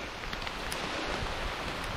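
Rain falling on a forest trail in Oil Creek State Park, a dense continuous patter and hiss, moderately loud and close, with no speech.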